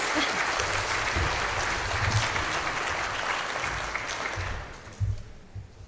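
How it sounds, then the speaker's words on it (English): Audience applause for an honoree at a peace officer and firefighter of the year luncheon, steady full clapping that fades toward the end, with a couple of louder bumps as it dies down. "So I'll give him an extra round of applause."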